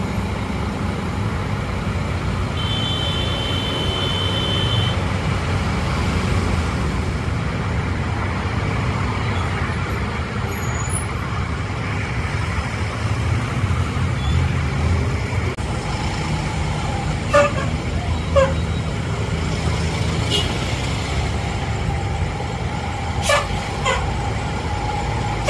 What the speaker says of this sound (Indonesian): STJ yang kedua masuk di agen Pasar Rebo pagi ini